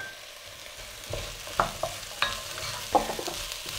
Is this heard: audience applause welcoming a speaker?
no